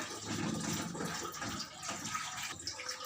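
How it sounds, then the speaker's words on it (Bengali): Bhetki fish pieces are rinsed in water, producing a continuous close splashing and sloshing with light gurgles, fairly soft and without speech. "এবার আমি এই মাছগুলোকে ভালো করে ডোলে ডোলে আবার ধুয়ে নেব"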